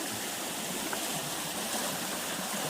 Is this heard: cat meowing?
no